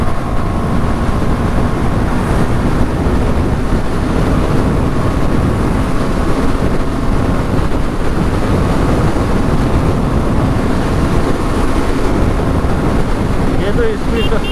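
A KTM Duke 390 motorcycle runs at highway speed with a constant, loud engine roar blended with heavy wind buffeting on the microphone, continuous and unbroken throughout.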